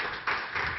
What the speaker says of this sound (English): Everyone, please give him another round of applause.